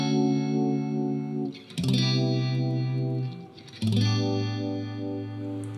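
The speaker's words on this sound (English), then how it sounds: "I actually think the Univibe starts to sound a little too prominent, and you could back the intensity down a little bit" Electric guitar through a Univibe pedal with the intensity turned down, three sustained chords with a gentle swirling pulse, each struck fresh and left ringing, moderately quiet and alone.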